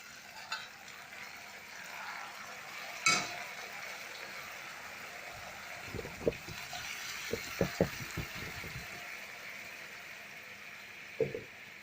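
Boiled yellow lentils being stirred into fried tomatoes in a pan, a soft simmering hiss with a few clustered scraping knocks of a spoon, no one speaking.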